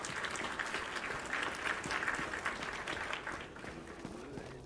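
An applause sound effect played on a livestream, a steady wash of many hands clapping at moderate volume that fades slightly toward the end.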